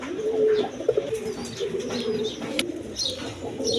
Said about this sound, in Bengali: দর্শক দেখেন এক পেয়ার কবুতর আছে আপনার রাজগোল্লা কবুতর